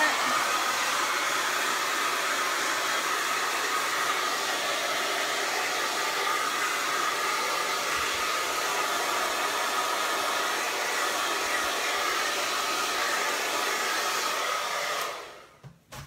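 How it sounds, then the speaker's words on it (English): A hair dryer blows steadily at close range with a constant broadband whoosh, then cuts off abruptly near the end. "I have a cool button on my uh, hair dryer and so I cool it down"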